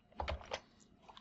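Ctrl and D keys pressed on a computer keyboard, a few soft, close clicks in quick succession followed by quiet.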